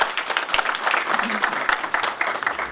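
An audience at an Urdu poetry gathering applauding, a dense steady clapping from a crowd, moderately loud and continuous for the whole stretch, with faint voices underneath.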